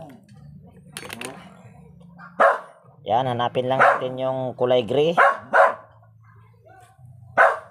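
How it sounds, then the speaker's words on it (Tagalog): A dog barks repeatedly and loudly nearby in a quick series of yaps during ceiling fan wiring work, while someone talks in between. "Ingay pa yung aso ko ."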